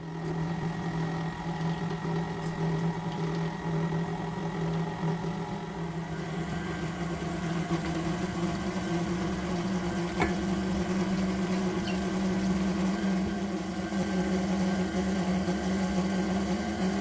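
A KitchenAid stand mixer with its paddle attachment works bread dough, giving a steady, continuous motor hum with an even droning whir that holds throughout, with no talking.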